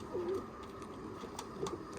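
Pigeons coo softly in a coop, two short low rolling calls against a quiet background.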